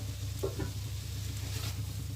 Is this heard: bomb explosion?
no